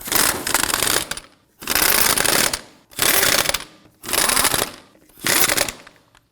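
A ratcheting wrench snugs the rear sway bar link nuts on a Volvo XC90 in five loud, close bursts of rapid clicking, separated by short pauses.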